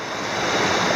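Guinea Brook being forded on foot, heard as a continuous rush of moving stream water, close and steady for a brief moment.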